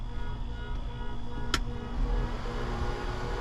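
A steady, low droning hum comes from an RV air conditioner compressor running in cooling mode, with one sharp click partway through and a faint fan underneath.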